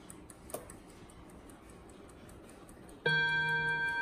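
An imported German mantel clock ticks with soft, regular beats, then a gong chime of the Westminster melody on five brass rods suddenly rings out loud and sustained.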